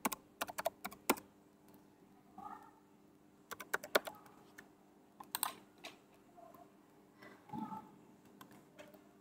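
Someone types an email and password on a computer keyboard, giving quick irregular bursts of close, crisp key clicks with short pauses between them.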